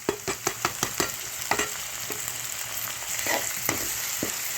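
Ginger and green chili paste hitting hot oil with onions in a pan, opening with a quick run of sharp spoon knocks and stirring clatter, then settling into a steady close sizzle with occasional taps.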